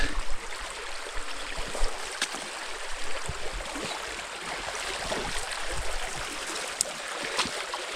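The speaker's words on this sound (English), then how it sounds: "The creek is right there" Creek water flowing through a hardwood forest, a steady broadband rush with small splashing bursts, close by and continuous, with no talk over it.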